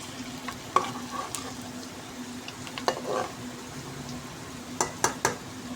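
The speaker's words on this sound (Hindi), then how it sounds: "इसको अब हम अच्छे तरीके से दोनों साइडों से फ्राई करके" Leftover roti pakoras frying in a pan of oil, a soft continuous sizzle with occasional light clinks and stirring scrapes, fairly quiet and close, with no talking.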